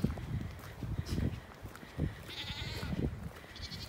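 Goats on a dairy farm where they are milked give several short, quiet bleats amid scattered footsteps and shuffling, with one higher, brighter call near the end.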